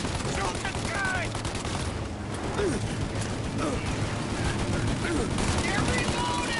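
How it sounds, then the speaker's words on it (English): Bursts of gunfire in the Mafia Definitive Edition video game, a loud continuous firefight with rapid shots and clatter throughout, with voices shouting over it. "Shoot out your gun when there's a break in the fire!"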